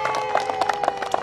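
A group claps hands together during an outbound game at an Islamic boarding school in Kudus, a quick run of sharp, uneven claps over about a second, with voices mixed in.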